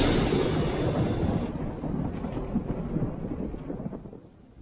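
A nighttime thunderstorm with heavy rain: a loud, continuous rumble of thunder over steady rainfall that slowly fades toward the end, with no voices.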